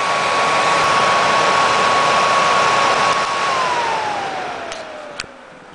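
A vintage hair dryer's small fan motor runs close up with a steady, loud whirring hum and a faint high whine, its pitch sliding down as it slows and fades toward the end.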